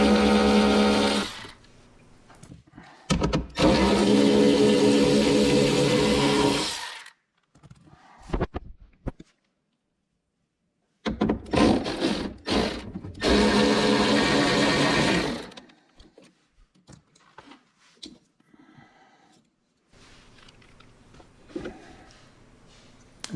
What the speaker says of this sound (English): go ahead and start unbolting your regulator. There's 3 10mm bolts that hold this in place.